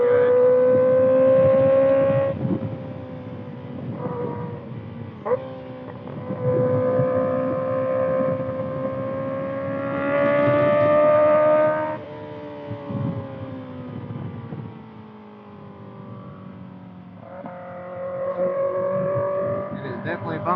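Kawasaki ZX6R motorcycle fitted with a Voodoo Racing slip-on exhaust, its engine note rising and falling steadily through gear changes over about twenty seconds, loud and close from a rider's point of view, with some wind noise.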